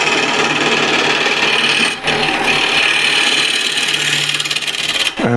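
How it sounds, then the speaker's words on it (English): A refiner tool scrapes the surface of a turned wooden apple spinning on a lathe, a loud, continuous, rasping close-up scrape with two brief pauses. "I'll use my refiner to refine this surface"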